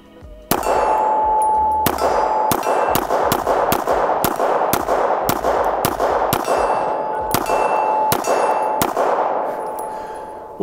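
A Beretta 80X Cheetah .380 ACP pistol fires a full magazine of about fifteen sharp, ringing shots at an uneven pace, loud and close, with a steady metallic ring between reports.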